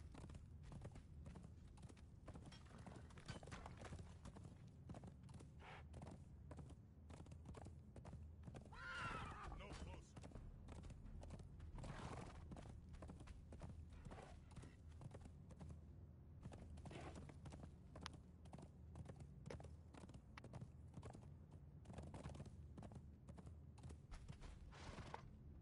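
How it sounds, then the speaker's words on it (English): Horse hooves clip-clop steadily in the video game Conan Exiles, with a whinny rising midway. Everything is quiet and faint, with soft voices in the background. "Watch out, there's a guy on a horse."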